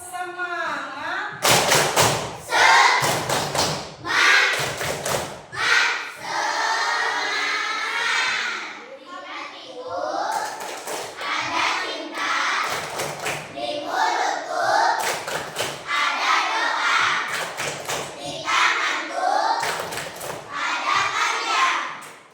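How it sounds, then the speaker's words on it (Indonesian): Children in a classroom performing a rhythmic spirit clap, with sharp grouped bursts of claps and thumps alternating with chanting voices, loud and close, repeating in patterned rounds. "Tepuk semangat."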